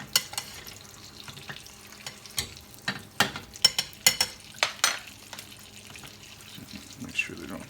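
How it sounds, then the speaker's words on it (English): Eggs frying in hot coconut oil in a stainless steel pan give off a soft background sizzle broken by a rapid series of sharp crackles and spatters as hot oil is spooned over them. "I can just put the hot oil right on top of the eggs as they cook"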